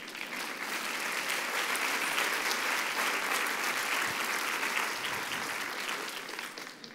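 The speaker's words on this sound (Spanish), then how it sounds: "Denle un aplauso a mi mamá," Steady, full applause from a church congregation fills the room for several seconds, a thick continuous patter of many hands that eases slightly at the close.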